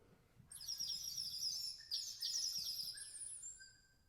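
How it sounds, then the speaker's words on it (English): High, warbling bird-like whistling trills from a bird whistle percussion instrument in quick bursts, bright and close, over quiet background. "such as the bird whistle,"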